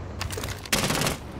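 Rapid bursts of gunfire in Rainbow Six Siege, shots punching through a wall, heard as a dense crackling volley that pauses briefly and then resumes louder and closer for about half a second.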